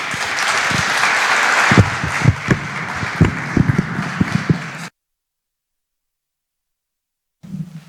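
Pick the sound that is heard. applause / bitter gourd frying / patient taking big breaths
applause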